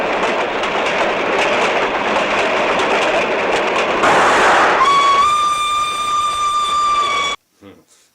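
A train rolls loudly along railway tracks in a film scene, a dense rumbling clatter that swells, then a long steel screech rings out before the sound cuts off abruptly, with a brief faint tail.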